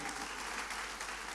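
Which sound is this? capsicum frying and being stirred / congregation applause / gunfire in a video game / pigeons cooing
congregation applause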